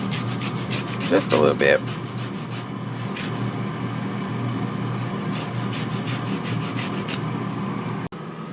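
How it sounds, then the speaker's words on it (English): Lemon zest grated over Cajun garlic lemon pepper air-fried chicken wings, a steady close scratchy rasping of repeated strokes running throughout, with a short spoken phrase near the start. "I'm also going to hit it with some lemon zest."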